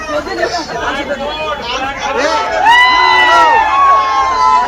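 A crowd at an election rally clamours and shouts slogans, several raised voices swelling over dense, continuous chatter that grows louder and more insistent toward the end.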